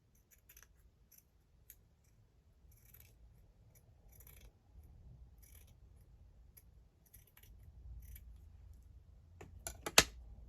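Scissors snip through sewing pattern paper, trimming away a curly edge in a string of faint, sharp clicks and crisp cuts, ending in a louder burst of snipping near the end.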